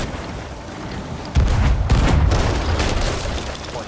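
Cannons fire aboard a ship in the pirate video game Sea of Thieves, a loud booming burst followed by a few more heavy blasts and rumbling.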